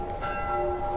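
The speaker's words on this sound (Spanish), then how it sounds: "Las campanas sonaban antes también con Eli" A single church bell tolls in a snowy area of The Last of Us, one sustained, resonant ringing tone that fills a short moment with no one speaking.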